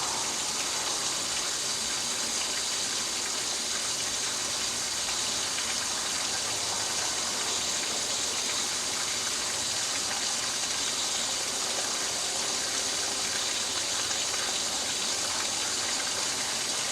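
A hose sprays water to wash mud out of a swamp cooler, giving a steady loud hiss and gush that runs unbroken throughout, with no voices.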